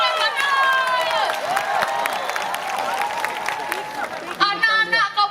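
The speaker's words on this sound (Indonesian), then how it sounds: "Tepuk tangan untuk anak-anak Kabupaten Bandung" Audience clapping and cheering for children performers at an arts festival in Bali, a lively crowd with applause, shouts and whistles, and voices calling out over the noise.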